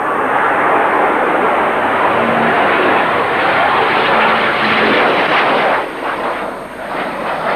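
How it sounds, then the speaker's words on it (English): English Electric Canberra jet bomber taking off, a loud, sustained roar of jet engines that stays steady before thinning and dropping in level toward the end. "as Canberra P for Papa gets airborne, with Roland Beaumont at the controls."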